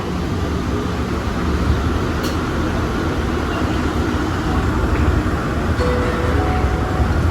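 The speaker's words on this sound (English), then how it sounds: "This train is stopping." A steady, loud rumble and rattle of an airport people-mover train running on its tracks, continuous throughout with faint squeaks near the end as it stops.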